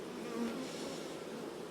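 A dense, steady buzzing of many honey bees at a hive fills the short clip, a close, continuous drone with slight wavering pitch and no voices.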